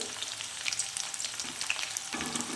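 Chopped green chillies fry in hot oil alongside chopped ginger for a restaurant-style egg tadka, a continuous close sizzle with small pops and faint stirring, no voices.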